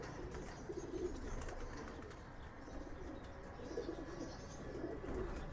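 A large racing pigeon, back from a 300-kilometre flight, coos softly several times against a steady background hum, with faint bird chirps around it.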